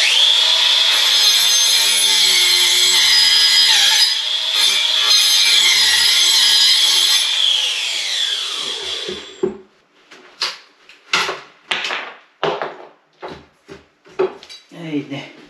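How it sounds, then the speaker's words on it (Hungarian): An 18-volt cordless circular saw fitted with an angle-grinder disc whines loudly through a wooden beam for several seconds, winds down, then gives way to scattered clattering and knocking of handled material. "ez a flex korongba rakott körfűrész"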